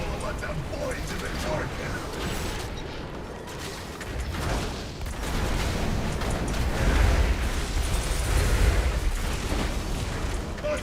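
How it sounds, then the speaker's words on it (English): Bomb explosions go off in the Gallywix boss fight of a video game, deep booms rolling over a dense, constant wash of battle effects, with the heaviest blasts landing in the latter half. "Bomb incoming. Out of the bomb circles."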